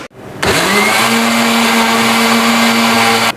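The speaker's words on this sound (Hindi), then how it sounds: "इसको चॉपर में डाल के चॉप कर लेंगे ताकि ये थोड़ा सा पिस भी जाए" An electric kitchen chopper grinds aloe vera for a homemade hair oil, giving a loud, steady motor whir that starts abruptly after a brief pause and runs evenly to the end.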